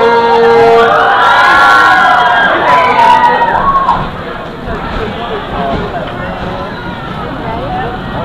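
Roller coaster riders on a giga coaster at Carowinds cheer and shout together, loud and close, with a burst of excited voices and high whoops at first that fades into scattered crowd noise.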